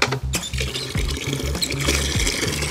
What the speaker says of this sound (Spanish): Primero voy a llenar estas dos cubetas con agua que ya les puse pinol previamente.